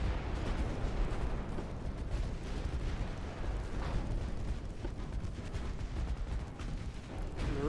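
Battleship guns in a naval combat game unleash dense, rumbling artillery barrages, with heavy booms and blasts overlapping into a continuous, loud roar and no voices.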